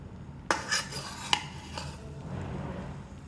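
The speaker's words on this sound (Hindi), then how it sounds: "मुरादाबादी पुलाव तैयार हो गया है, मैं इसको डिश आउट करती हूँ" Muradabadi chicken yakhni pulao is dished out from a pot with a metal spoon: a few sharp clinks and scrapes against the vessel, then a softer rustle of rice being scooped, close and quiet.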